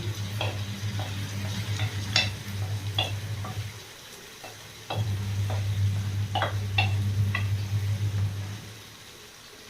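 Saag cooking in desi ghee in a pan gives a continuous low sizzle, joined by repeated scraping and stirring clinks of a utensil against the pan. The sizzle briefly drops away midway, then returns, all close with no speech.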